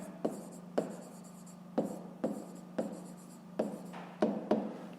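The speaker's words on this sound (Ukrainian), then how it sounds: "пишемо зірочки" Pen strokes of asterisks being written by hand on paper in a fifth-grade math exercise, a series of about ten sharp scratchy taps and short scrapes in an irregular rhythm, close and fairly quiet with no voices.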